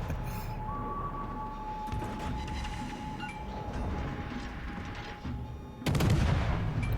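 Rear turret guns on a ship firing in the naval game World of Warships Legends, a sharp burst of booming shots near the end over a steady engine hum and faint clinks.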